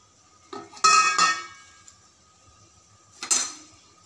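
A spoon stirs prawns into a pot of simmering ripe tamarind sour, giving a few close metallic clinks and scrapes in two short bursts with quiet pauses between.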